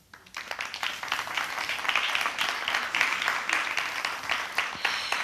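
Audience applause at the opening of a book fair: sustained, dense clapping from a large crowd that swells in within the first half second and holds steady and fairly loud throughout, with no talk over it.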